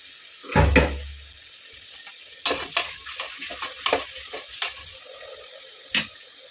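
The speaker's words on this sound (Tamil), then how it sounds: "தக்காளி இதோட சேர்த்து வதக்குறேங்க" A pan of tomatoes and onions sizzles softly while a utensil scrapes and stirs in a few sharp knocks, with a low clatter near the start.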